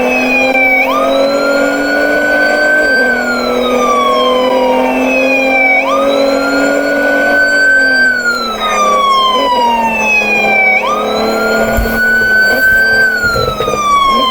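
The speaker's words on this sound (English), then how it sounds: "lights and sirens on" Emergency vehicle siren in a video game wails loudly in repeated rising-and-falling sweeps, about three cycles, close and continuous with engine rumble beneath and no talk.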